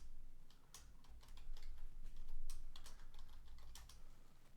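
Quick clicking keystrokes on a computer keyboard as a command is entered, close and quiet, in irregular bursts without speech.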